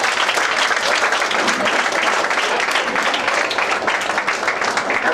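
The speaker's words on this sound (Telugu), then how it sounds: "అందరూ షౌట్స్ చప్పట్లతో మనం మేడం గారికి" A hall audience gives a madam sustained applause, dense clapping from many hands with scattered shouts mixed in, loud and continuous throughout.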